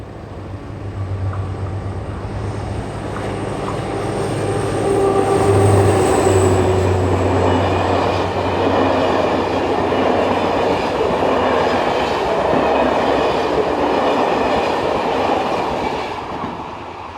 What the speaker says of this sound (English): just in time to see 67596 heading south with a 1624 from Laon to Paris Nord